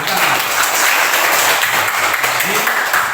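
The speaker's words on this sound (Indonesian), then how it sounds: "Nah, tepuk tangan." A room full of people claps together, a close, steady burst of applause filling the whole moment without pause, with no talk heard over it.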